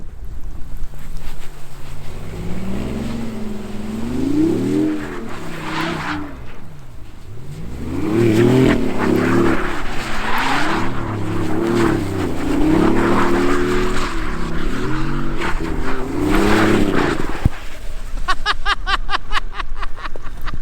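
A BMW i8 drives in winter weather, its engine note rising and falling through repeated surges of acceleration with wind buffeting the microphone, loud and close, ending in a brief fluttering rattle.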